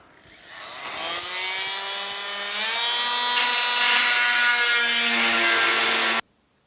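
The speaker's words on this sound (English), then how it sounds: "I think I'm going to use the multi-tool again and just bury it in here and just try to cut the whole thing" An oscillating multi-tool cuts into the rusted metal of a car's sail panel on a GTO, a loud, close, buzzing whine that ramps up, holds steady for several seconds, then cuts off abruptly.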